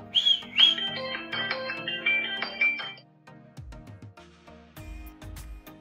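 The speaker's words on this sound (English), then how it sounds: "just chill out and give it a whistle." A few short, high whistled notes at the start, followed by light clinks and soft tapping sounds.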